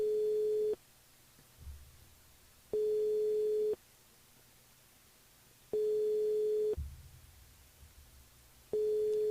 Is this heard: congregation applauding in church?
no